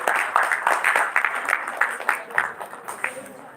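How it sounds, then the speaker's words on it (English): An audience claps to welcome a speaker at a live dental clinic event, producing scattered, uneven claps in loose bursts that thin out over a few seconds. "let's welcome her, everyone with a huge round of applause."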